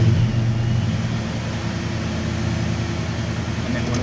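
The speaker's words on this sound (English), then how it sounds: "We're going to go ahead and start the engine here." Engine of a Dodge Charger with paddle shifters starts and settles into a steady, low idle rumble close by, holding an even drone for several seconds.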